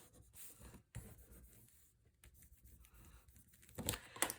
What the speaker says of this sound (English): And burnish this down.